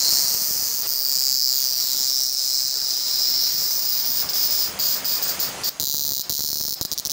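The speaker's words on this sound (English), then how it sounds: "one of the things that you'll commonly find here is cicadas." Loud, steady high-pitched cicada buzzing close by, continuous throughout with a slight flutter near the end.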